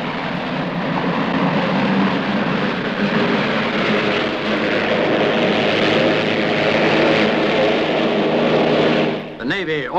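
A hovercraft, a mobile test bed for the forces, roars with engine and propellers in a loud, steady drone that fills the clip and drops away near the end, with a narrator speaking over it.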